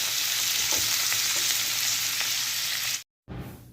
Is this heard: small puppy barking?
no